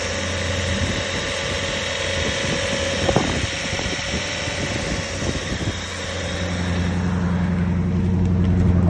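A 2011 S5 car engine runs after a cold start, a steady, close exhaust drone with a faint rise near the end and no talking.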